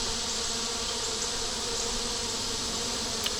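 Honeybees buzz outside their hive in hot weather, a steady, dense, continuous drone of many insects close by, with no talking.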